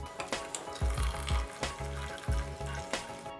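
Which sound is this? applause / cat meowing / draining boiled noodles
draining boiled noodles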